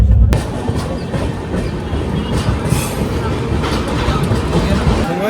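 The Bengaluru–Howrah superfast passenger train rumbles steadily along the rails, close and loud, with a continuous clattering roar and faint metallic squeals.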